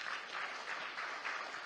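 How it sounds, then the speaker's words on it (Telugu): A stage audience claps steadily at a film success celebration, a dense continuous patter of hands rising and falling slightly in waves, with no speech over it. "మీరు ఒక్కసారి గట్టిగా చప్పట్లు కొట్టండి"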